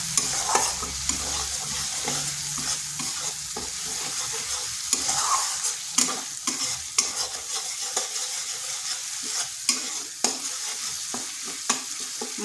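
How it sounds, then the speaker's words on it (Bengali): Spice paste sizzles steadily in oil in a wok (kadai) for a vegetarian spinach and potato dish, with a spatula scraping and stirring in repeated sharp strokes over the constant frying hiss. "মশলাটা বেশ কিছুক্ষণ কষে নিলাম"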